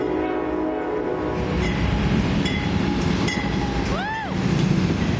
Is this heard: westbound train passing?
yes